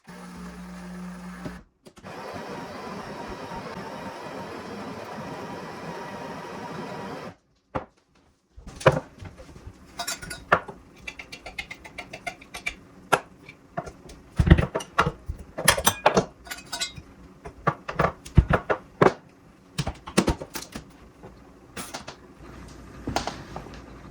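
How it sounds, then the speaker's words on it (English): A coffee machine runs close by, first a steady mechanical hum, then a pause, followed by a stretch of irregular clicks, clunks and whirring bursts as it works, with no talking. "This machine makes great coffee, by the way."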